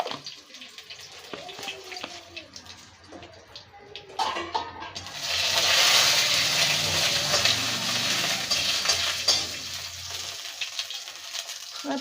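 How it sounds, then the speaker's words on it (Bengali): Five-spice seeds and bay leaf hit hot mustard oil in a wok, giving a faint prelude of clinks before a loud, bright sizzle that swells and then slowly fades over several seconds. "বন্ধুরা কড়াইতে এবার 5 ফোড়ন দেবো 1 চামচ মতন,"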